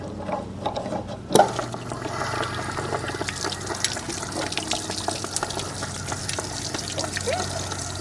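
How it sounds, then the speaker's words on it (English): Water drains out of an RV travel trailer's water heater once the anode rod is out, a steady close splashing pour that holds evenly throughout after a brief knock near the start, with no voices. "And let that drain as well."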